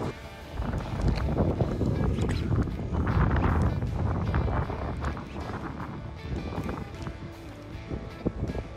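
Wind buffets the microphone outdoors at a fishing spot, loud low rumbling gusts that surge and ease throughout with small knocks and rustles.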